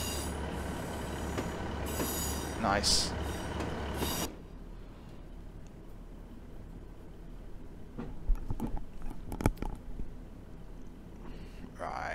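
A train at a London Overground station, with a loud rumbling, squealing passage that cuts off abruptly, followed by quieter clanks and rattles; someone briefly speaks.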